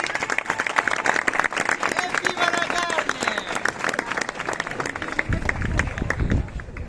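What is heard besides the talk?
crowd applauding at a street procession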